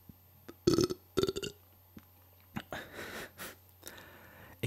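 Two loud, close burps come in quick succession, followed by softer breathy sounds and small mouth noises in a quiet room.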